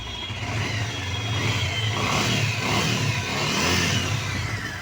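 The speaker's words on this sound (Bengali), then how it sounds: "আলহামদুলিল্লাহ, পালসার UG3 এই বাইকটি স্টার্ট করা হলো। এই যে সাউন্ড," A Bajaj Pulsar UG3 motorcycle engine runs close by with a continuous rumbling drone that swells into throttle revs in the middle and again near the end. No one speaks.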